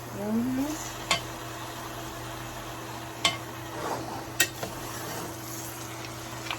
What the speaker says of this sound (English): give it a quick stir from bottom to top